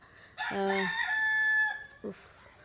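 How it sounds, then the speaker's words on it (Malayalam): A single rooster crows nearby, one long drawn-out call, followed by a short cluck-like sound. No talking. "അപ്പുറത്ത് പോയിട്ട് കോഴിയും കാക്കയൊക്കെ കരയുന്നുണ്ട് കേട്ടോ"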